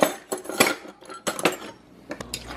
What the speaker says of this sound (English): Let me get a spoon, fork.